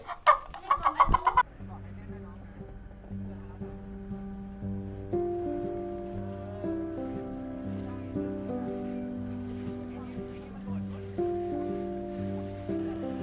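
A Thai handmade kai kratak clucking chicken toy gives a quick burst of loud rattling clucks for about a second and a half, then music takes over.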